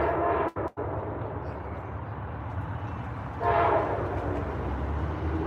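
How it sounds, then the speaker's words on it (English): A train rumbles past nearby, its steady rolling roar swelling louder partway through, with no talking over it. "We're gonna wait till the train goes by."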